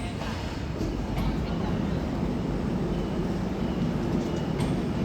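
Hubballi Yog Nagari Rishikesh Express arriving, a steady close rumble of a train rolling past at moderate loudness, with faint talk mixed in.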